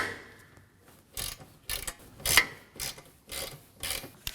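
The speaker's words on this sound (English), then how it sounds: "Using a 10mm socket, go ahead and loosen those." A 10mm socket ratchet loosens the AC condenser line bolts on a 2016-2020 Kia Sorento 2.4L, giving faint, quick clicking bursts that repeat about every half second.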